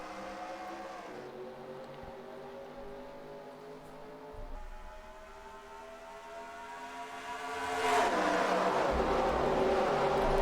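A field of stock cars accelerates at the race start at Michigan in a racing video game, engines droning steadily and then swelling louder as the pack surges away.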